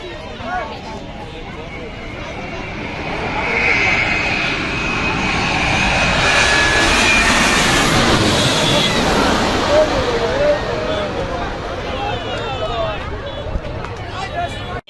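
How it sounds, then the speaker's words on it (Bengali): A Boeing 787 Dreamliner jet roars steadily as it approaches and passes while landing at Hazrat Shahjalal International Airport, its engine noise swelling and fading over several seconds, with faint crowd chatter in the background. "দেখতে পাচ্ছেন এগিয়ে আসছে ড্রিম লাইনার 787"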